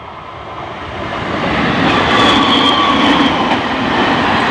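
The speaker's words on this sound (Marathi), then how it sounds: "आपली मुंबईची शान लोकल" A Mumbai local train, running half an hour late, passes at a distance, its broad rumble and rail hiss swelling gradually and holding steady, with no voices.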